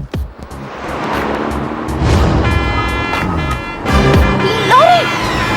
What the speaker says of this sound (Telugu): లారీ!